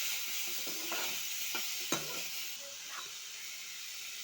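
Tomato and green chili chutney with tamarind frying in a pan, a steady broad sizzle with a few sharp stirring scrapes and knocks scattered through, close and alone without any talk.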